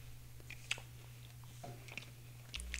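Someone chews a takeout spring roll that has gone slightly soggy from the trip from the restaurant. The crunches and bites are faint, close and irregular over a low steady hum.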